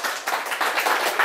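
Audience claps warmly to welcome a speaker onto a lecture show stage, brisk dense clapping that is loud and steady for its brief length.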